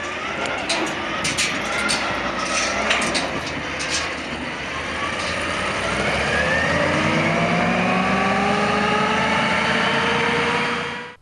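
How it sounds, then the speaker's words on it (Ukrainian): Restored Soviet armoured personnel carrier with a rebuilt engine, running loud and close: a rough diesel rumble with rising whine as it revs, a few sharp clanks early on, and the sound cutting off at the end. "БТР вже на ходу, все відновлено заново."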